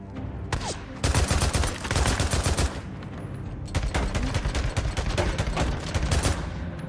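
Rapid bursts of gunfire from a video game shotgun fight against a tough bear, loud and dense volleys with a short pause midway, then more overlapping shots.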